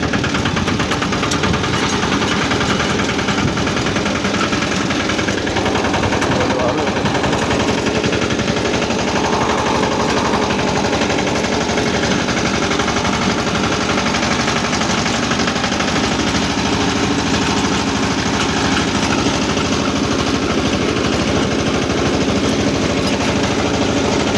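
A sanedo motorcycle cart's engine runs steadily and loudly throughout, a rough, rapid chugging knock close by with no break, on a ride near a farm and lake.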